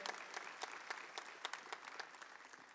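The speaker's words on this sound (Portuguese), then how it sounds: "Então se aplauda, eu queria que você se aplaudisse, porque você tem fé." A church congregation applauds during Mass, a steady dense clatter of many hands clapping together for a few seconds in a reverberant hall, without speech.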